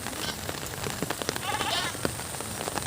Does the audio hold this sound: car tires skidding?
no